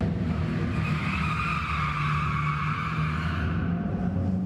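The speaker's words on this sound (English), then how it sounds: "cars screeching around corners on the Chevy indoor test track" Cars screech their tires around corners on an indoor Chevy test track, a loud continuous squeal layered over steady engine roar throughout.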